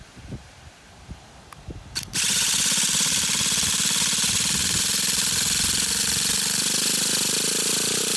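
An old Traxxas T-Maxx RC truck's nitro engine starts after a few clicks and fiddling, then screams continuously at a loud, raw, buzzing pitch close by.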